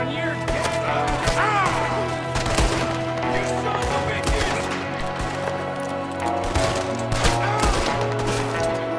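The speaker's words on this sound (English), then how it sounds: "There's another one shooting from the window!" Rapid gunfire fills a Red Dead Redemption 2 shootout around a cabin, with dense overlapping shots and bursts from several guns, fairly loud and continuous over a steady background, with shouted voices mixed in.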